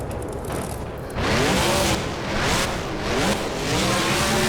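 Gravedigger monster truck in BeamNG, its engine revving hard and loud through a cyclone, with rising and falling surges of roar and wind-like rushing that swell after a quieter first second.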